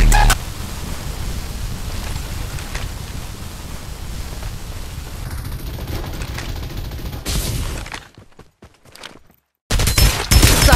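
Rapid gunfire from the battle-royale shooter Farlight 84, a dense, sustained burst of shots over roughly eight seconds, cutting out briefly before another loud volley resumes near the end.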